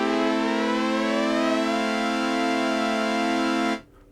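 A synthesizer played through an Arturia KeyLab holds a bright, buzzy chord while the top note glides smoothly upward under pitch bend. It sustains loudly and alone, then cuts off abruptly near the end.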